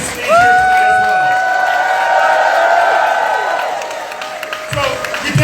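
Political rally crowd for a New York mayoral primary cheering and whooping loudly, with sustained shouts and applause for state legislators on stage, swelling briefly then tapering off.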